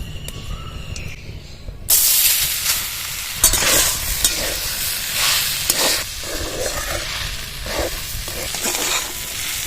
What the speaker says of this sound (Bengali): দেখুন বন্ধুরা সাবুর গায়ে আর জল নেই এই অবস্থায় এবার কড়ার মধ্যে দিয়ে দেবো